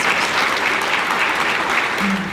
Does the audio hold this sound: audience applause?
yes